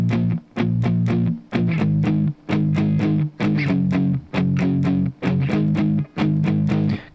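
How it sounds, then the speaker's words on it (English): Distorted electric guitar chugs through tight palm-muted power chords in the bridge of a song, loud and close, with clipped bursts separated by brief gaps. "The bridge is going to be palm muted power chords,"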